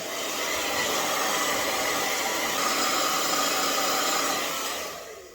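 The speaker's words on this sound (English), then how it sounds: "And then go in with my blow dryer." A hair dryer blows steadily at close range with a loud, even whoosh, then switches off near the end.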